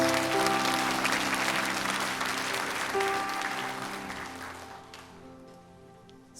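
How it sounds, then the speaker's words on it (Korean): A church congregation at a Sunday worship service in Irvine applauds to welcome the pastor. Dense clapping over a sustained organ or keyboard chord fades gradually toward the end, leaving a few last claps. "큰 사랑과 환영의 박수로 함께 말씀 사모하겠습니다."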